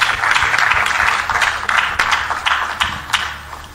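A church congregation applauds a pastor and his wife with dense, steady clapping that fills the whole moment, loud and close, with occasional sharper claps standing out.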